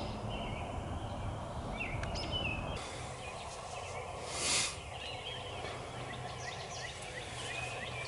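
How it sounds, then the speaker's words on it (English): A wild turkey gobbles in the dark from a hunting blind during Ohio's youth season, one distant, fairly faint rattling gobble that rises briefly over steady outdoor background noise. "Here gobblers about every night."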